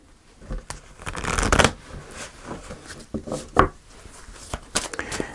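A deck of tarot cards is shuffled close by in a tarot reading, with repeated riffling bursts and soft slaps as the cards are cut and squared, alone with no talk.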